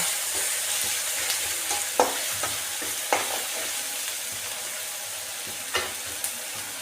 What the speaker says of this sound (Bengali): এবার এটাকে আমি আস্তে আস্তে ভালো করে ভাজা করে নেব